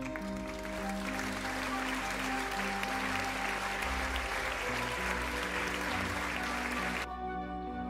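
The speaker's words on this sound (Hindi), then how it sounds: "तो हो जाए एक बार फिर से तालियां।" Applause at a circus act with Panna Lal the donkey rises under steady musical tones, a dense sustained clapping that cuts off sharply near the end.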